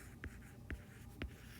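Numbers are written by hand, with three short scratchy pen strokes spaced about half a second apart, quiet and close against faint background noise.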